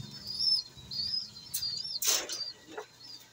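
Soft pigeon coos and calls in a quiet loft, with a couple of brief bursts like fluttering wings.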